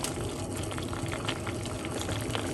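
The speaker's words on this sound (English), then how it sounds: "Let it simmer down for a few minutes." Lemon and parsley tea simmering in a pot, a steady low bubbling and gurgling that runs continuously and fairly quietly, close by, with no talk.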